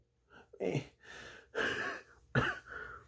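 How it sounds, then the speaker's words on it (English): A man coughs several times in harsh, chesty bursts with short breaths between, close to the microphone. "you better stop coughing"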